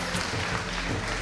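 A dense, even wash of clapping from an audience at a French awards ceremony for innovative programmes, steady and sustained with no speech.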